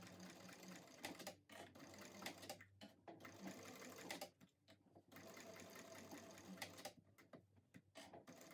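A sewing machine runs bursts of long-length top stitching on a tote bag: quiet, rapid mechanical clatter broken by short pauses between runs, with faint voice traces.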